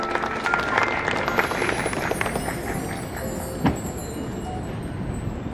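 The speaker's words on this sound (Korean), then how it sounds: "뜨거운 박수 부탁드립니다." Audience applause at a time capsule sealing ceremony, a busy patter of clapping that thins out over the second half, with a single sharp knock partway through.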